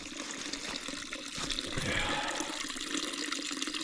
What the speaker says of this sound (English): This bubbles out of the ground right there